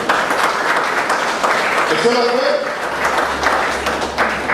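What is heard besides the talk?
congregation applause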